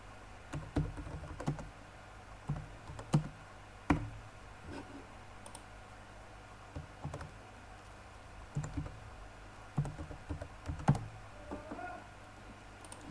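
An address is typed on a computer keyboard, with irregular bursts of close, light key clicks and taps, some louder strikes, over a faint steady background hum and no speech.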